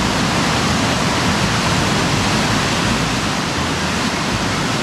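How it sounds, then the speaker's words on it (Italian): Steady, loud roar of a waterfall pouring through a rock canyon in the Jasper and Banff area, a dense continuous rush of water with no pauses and no voices. "Andiamo a vedere la cascata."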